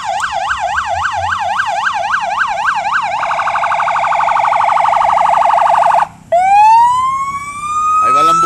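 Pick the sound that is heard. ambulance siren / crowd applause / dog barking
ambulance siren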